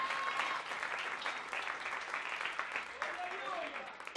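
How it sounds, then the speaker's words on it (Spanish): A church congregation breaks into steady, fairly distant applause of praise during a Spanish-language evangelical sermon, a continuous dense patter lasting several seconds with murmured voices beneath. "Le damos un aplauso de alabanza al Señor."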